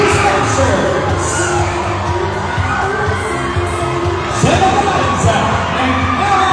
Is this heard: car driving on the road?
no